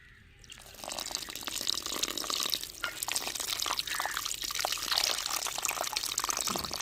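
Dissolved tamarind water is poured into a fish curry of grated coconut and green chillies, giving a steady close splashing, trickling flow that runs for several seconds without any talk.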